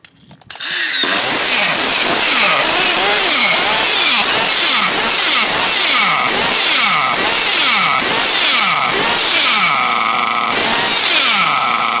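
A Mugen MBX5 Prospect nitro RC buggy engine runs loud and close, a high buzzing whine that rises and falls in repeated revving sweeps after starting up, steady through the whole stretch.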